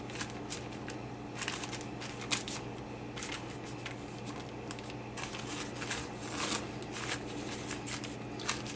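Soft crinkly peeling of a plastic sheet away from rolled-out healthier pie crust dough, faint intermittent crackles and rustles over a steady low hum, with no voices.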